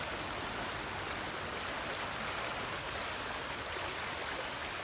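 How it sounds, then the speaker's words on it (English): Flash-flood water rushes through a suburban yard outlet in Ohio, a constant broad roar of fast-moving water, steady and close, with no voices. "There's so much water coming through."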